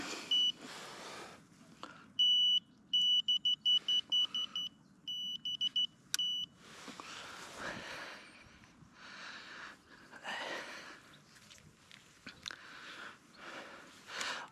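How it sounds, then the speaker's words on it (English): Fishing bite alarm on a pike dead-bait rig beeping in rapid repeated bursts, with short gaps between runs, fairly loud against quiet outdoor background with faint rustling and breathing. "wasn't expecting my alarm to go off so much then, otherwise I would have switched it off."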